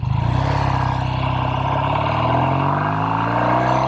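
A 1969 Triumph TR6R Tiger 650 motorcycle engine drones steadily while riding, its throbbing exhaust note rising gradually with speed, loud and near, with no voices.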